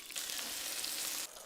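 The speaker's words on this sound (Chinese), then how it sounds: "些许蒜片爆香，加入菌菇炒至软身" Garlic slices and mushrooms stir-fried in a hot wok, a bright, steady hiss of sizzling oil that cuts off abruptly near the end, faint and close, with no voices.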